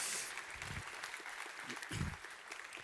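Audience applause at a security conference talk, a short burst of clapping with some audible voices and cheering, fairly faint and roomy.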